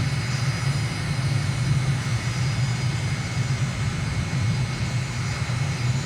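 Aircraft engine drone on final approach with gear and flaps down in a flight simulator game, a steady low hum that holds evenly at moderate level with no voices.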